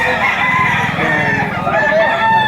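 Roosters, full stags for sale at a gamecock market in Batangas, crow loudly and close by with drawn-out calls, one overlapping another across the whole stretch, over a low murmur of crowd noise.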